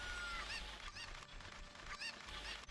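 Cucco chickens squawk and honk in a Zelda-style dungeon game, several repeated calls over a steady game-sound bed.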